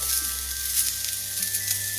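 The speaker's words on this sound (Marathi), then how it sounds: "याच कढईमध्ये मी दोन मध्यम आकाराची कांदी चिरून घेतली होती ही यामध्ये घालून घेते" Steady hissing sizzle of two chopped medium onions frying in a hot kadhai, continuous and close, with a low hum underneath and no talking.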